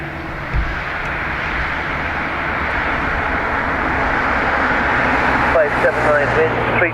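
Ryanair-style flight FR 8579 to Malaga taking off from Dublin Airport's north runway, a loud continuous engine roar building slightly, with whining tonal engine sweeps near the end; no talking heard over it.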